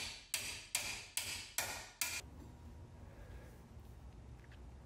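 Five sharp metallic hammer strikes on a 15mm wrench to loosen wheel hub bolts on a Range Rover Sport or LR3 ring out at an even pace, each with a short ringing decay, followed by quiet background hum.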